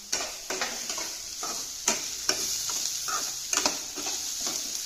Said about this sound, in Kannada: ಈರುಳ್ಳಿ, ಕರಿಬೇವಿನ ಸೊಪ್ಪು ಒಳ್ಳೆ ಗುಂಗುಡಿತಾ ಇದೆ ಈಗ